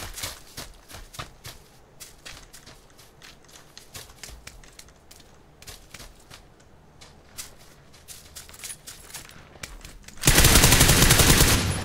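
Rapid sharp gunshots crack repeatedly in a battle-royale shooter round where a Kar98k bolt-action sniper rifle is used, sounding as fairly close reports against quiet background, followed near the end by a burst of loud broadband noise.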